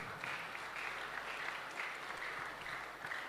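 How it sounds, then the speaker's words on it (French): A church congregation claps for the choir in steady, sustained applause that sounds fairly distant and soft, with no voices rising above it. "Acclamons pour la chorale, Boulati Makasi"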